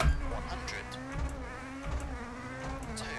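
A Volkswagen Polo R rally car engine revs in the racing game EA WRC, a buzzing, high-pitched drone that rises and falls steadily as the car drives a rally stage.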